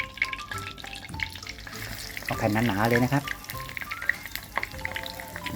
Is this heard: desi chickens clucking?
no